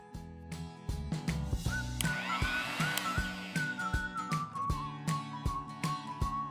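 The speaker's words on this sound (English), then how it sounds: "Along with this, I'm grinding 2 inches of ginger and 4 green chilies. Let's put this to grind." A kitchen grinder churns soaked moong dal with ginger and green chilies, a steady motor whine with a rising pitched tone over rapid rhythmic knocking of the blades and jar.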